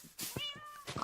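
A cat meows in a video game, a single clear, close, rising-and-falling meow lasting about half a second amid soft surrounding noises.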